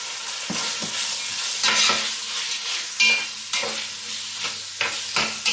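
Finely chopped onion frying with star anise in a pan, a steady close sizzle broken by repeated scraping stir strokes, with no talking.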